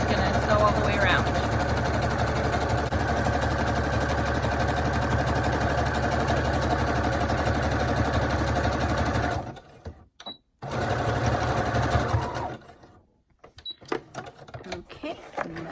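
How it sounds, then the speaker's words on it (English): Sewing machine stitching magazine pages together for a B6 junk journal, a steady close whirring run that stops briefly, restarts for a backstitch and then ends, with light handling noises afterward. "So just gonna sew and then back sew just to make sure it doesn't come off, and then I'm just gonna sew all the way around."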